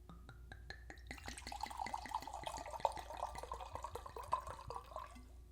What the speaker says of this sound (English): And now ASMR pour.